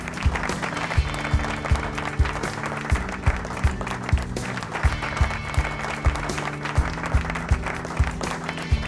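Audience applause welcoming a speaker onto the stage at a Women's Day event, a dense steady roar of clapping with a rhythmic low thumping of music beneath it, sustained and loud.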